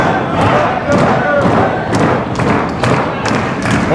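A loud wrestling crowd roars and cheers steadily throughout a live match, with repeated heavy thuds from the ring landing over the dense crowd noise.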